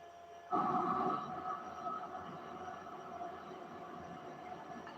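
A train rumbles past nearby, starting abruptly with a loud surge and then fading into a long, steady rolling drone.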